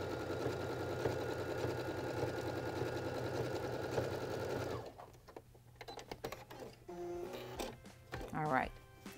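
Baby Lock sewing machine fitted with a blind stitch foot and guide, running steadily through several layers of fabric with a dense whirring hum, then stopping and giving way to clicks and handling noises.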